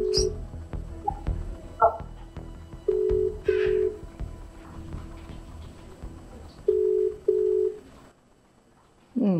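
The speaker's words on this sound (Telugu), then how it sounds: "ఇది రింగ్ అవుతుంది, చూద్దాం" WhatsApp call ringing, repeated paired electronic ring tones with pauses between them, alongside soft speech and background noise, ending in a short tone sweep.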